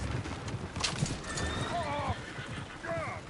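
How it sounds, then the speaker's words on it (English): Horses in the video game Red Dead Redemption 2 neigh and whinny in high, wavering calls over a steady clip-clop of hooves, with voices talking faintly in the background. "Oh, shit, the horses."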